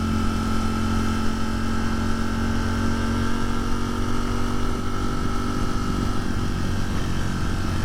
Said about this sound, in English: The clutch is extremely, extremely loud on that bike.